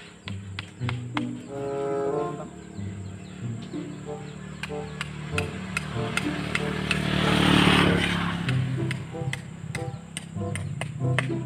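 Sharp, irregular strikes of a hammer ring out over soft background noise while preparing a watermelon planting plot outdoors, the blows spaced unevenly and fairly close, with faint talk in the background.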